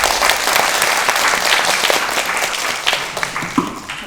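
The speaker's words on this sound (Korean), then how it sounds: "네, 큰 박수 부탁드립니다." Audience applause at an international seminar of a National Assembly suicide prevention forum, a loud, dense roar of many hands clapping that holds steady and then thins toward the end.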